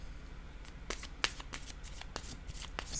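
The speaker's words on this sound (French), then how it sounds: "Je vais déposer une carte ici." Tarot cards handled and laid down during a reading: quiet, close papery flicks and soft slaps, several in quick irregular succession over a hushed background.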